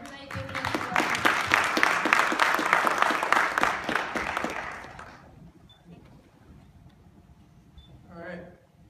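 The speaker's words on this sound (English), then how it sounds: "Let's give them a round of applause." A conference audience applauds with dense clapping for about five seconds, then it fades into quiet room noise with a brief murmur near the end.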